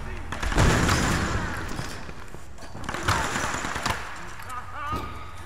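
Gunfire in the Tomb Raider game: a few heavy shots and thuds, a burst near the start and another around the middle, mixed in with someone talking over the action.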